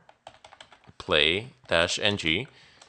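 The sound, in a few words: typing a command on a computer keyboard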